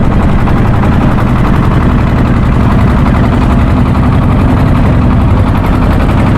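A trawler boat's engine runs at full power on the river near the Padma Bridge, making a loud, steady, close rattling drone with no talking.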